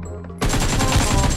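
Automatic AKM rifle fire in the mobile battle game BGMI bursts in abruptly after a quiet moment, a loud, dense run of rapid shots that continues to the end.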